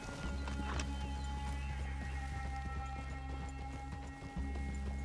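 Horses in the video game Red Dead Redemption 2 clop and shuffle close by, with a short whinny early on, over a steady low droning hum.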